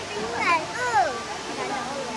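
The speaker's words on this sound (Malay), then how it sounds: "kita juga ada air terjun dekat sana, tunjuk air terjun ya" A waterfall flowing near a garden pond gives a steady, broad rushing wash throughout, heard beneath a child's and an adult's voices talking over it.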